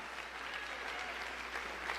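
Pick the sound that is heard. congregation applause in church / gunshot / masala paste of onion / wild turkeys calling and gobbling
congregation applause in church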